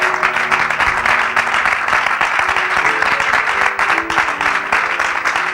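A church congregation cheers and applauds during a welcome for a visiting pastor, a dense, steady wash of clapping and crowd noise filling the whole stretch, with faint sustained musical tones underneath.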